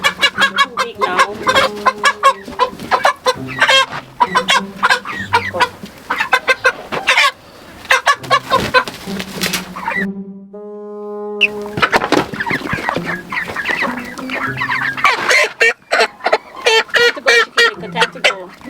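A flock of farm chickens on a rural Jamaican farm clucks and squawks nonstop at close range, dense overlapping calls with one drawn-out honking cry in the middle.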